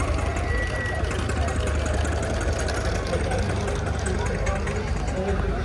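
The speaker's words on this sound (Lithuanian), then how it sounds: "Traktoriuks mažas." A small tractor engine runs steadily at a busy outdoor festival, a continuous low rumbling drone throughout with crowd chatter and voices layered over it.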